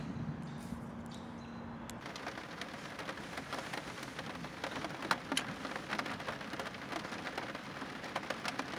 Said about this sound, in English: as you may or may not be able to hear, it is starting to rain out.